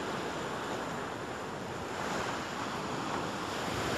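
Sea waves wash onto the shore in a continuous loud roar of surf, mixed with wind buffeting the microphone, with no voices.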